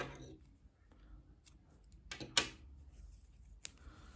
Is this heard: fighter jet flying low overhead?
no